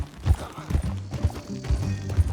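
Horse hooves clip-clop at a steady walking rhythm in the Red Dead Redemption 2 game, each footfall heavy and close, with faint background tones and no speech.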